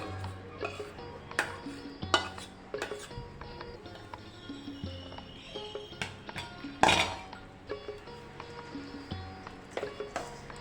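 A spoon clinks and scrapes in a metal pot or bowl while a warm ghee and jaggery mixture is stirred into churma for laddoos, with irregular close taps and scraping, no talk.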